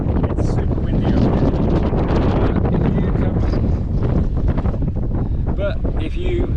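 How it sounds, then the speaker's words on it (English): Strong wind buffets the microphone on an exposed hilltop climb into Brill, a loud constant roar that covers everything, with faint traces of a voice underneath. "This one, it's super windy up"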